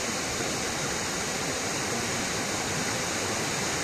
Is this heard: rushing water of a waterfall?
yes